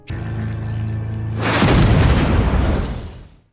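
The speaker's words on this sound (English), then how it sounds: "a rocket strikes them and brings them down" A rocket strikes an aircraft in a film and it explodes: a deep, heavy boom swells after a low rumbling hum and rolls on loudly for nearly two seconds before cutting away, with no voices.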